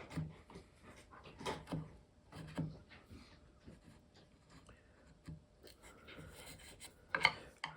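Hand tool trimming wood to a marked line on a wooden chair shoe, a series of quiet, close scraping and rasping strokes in an uneven rhythm with soft knocks between them.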